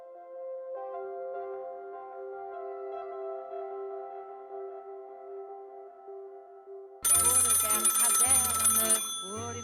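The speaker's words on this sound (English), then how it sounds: "At 11 minutes past 1, the telephone rang at General Marx HQ." Old-style telephone ringing at a German army headquarters, a steady, sustained ring with a tonal hum, then a sudden louder burst of harsh, bright sound near the end.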